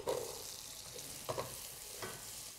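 Minced garlic and cubed onion sizzle softly in melted butter with salami, a steady frying hiss broken by a few light stirring scrapes and pops, with no talking.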